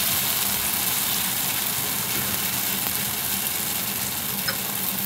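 Thin malpola batter is spread on a hot traditional pan over low flame, with a continuous, even frying hiss throughout and no one speaking.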